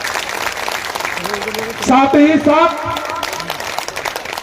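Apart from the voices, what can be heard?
audience applause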